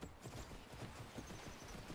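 A black horse in the Skyrim video game clip-clops along in a steady walking rhythm, its hoofbeats soft and fairly close, with no talking over them.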